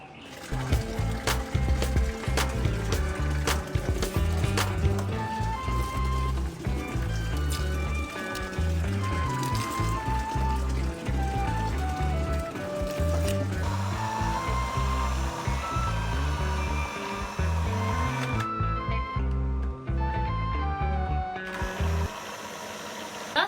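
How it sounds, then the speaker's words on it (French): A kitchen blender mixes green condiments while struggling on low power, its motor whining and labouring with uneven, shifting pitch. The sound is loud and close, runs almost continuously, then cuts out briefly near the end before starting again. "Les condiments verts, je voulais mixer en fait, mais je me rends compte que soit c'est beaucoup, soit c'est la baisse de tension."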